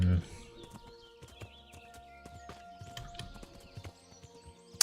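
Hooves of the starting horse clip-clop steadily at a trot in the medieval game Kingdom Come: Deliverance, quiet and rhythmic beneath faint ambient game sounds.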